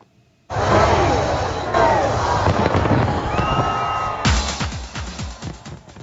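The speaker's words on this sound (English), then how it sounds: "In Sydney, Australia, thousands turned out for a fireworks display that lit up the sky over the harbour." A New Year fireworks display over Sydney harbour, with booming bursts and crackling pops above the noise of a large crowd cheering, loud and continuous, ending in a volley of sharp bangs.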